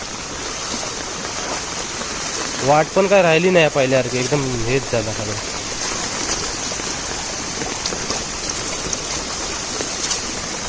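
Heavy monsoon downpour in the Konkan countryside, a steady broadband wash of rain and running water that holds throughout, with someone talking over it for a few seconds in the middle.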